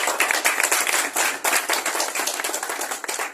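An audience gives a round of applause for Vijay Pandey at a gathering, with quick, dense, moderately loud clapping that continues steadily throughout.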